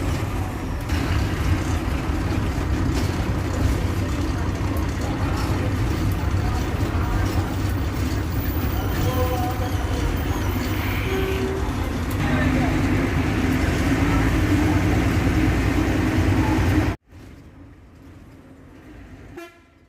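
Steady road rumble and engine drone heard from inside a vehicle driving through Tirupati, with a few horn toots, loud and continuous for most of the clip before dropping abruptly to quieter noise near the end.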